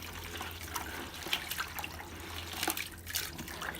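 Tap water runs steadily while live crawfish are rinsed clean before a Cajun boil, with faint splashing and dripping throughout.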